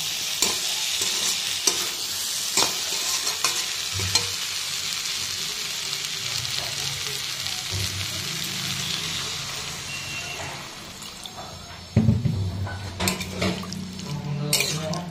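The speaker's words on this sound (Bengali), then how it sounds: "দেখো সবজিটা ভালো করে কষানো হয়ে গেছে, জল দিয়ে দেবো।" Sautéed vegetables in a pan, part of a dried fish recipe, sizzle loudly with stirring and scraping, then water poured in near the end sets off a sudden louder hissing burst; no one speaks.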